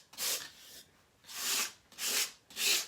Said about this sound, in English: take our sandpaper again and just smooth it down a little bit